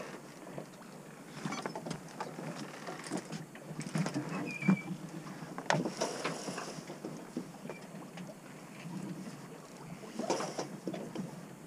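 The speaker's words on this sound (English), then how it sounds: "I'm luffing the mainsail." Mainsail luffing on a sailboat moving slowly at under two knots, flapping in the wind with irregular rustling bursts and snaps over steady wind and water noise, no voices.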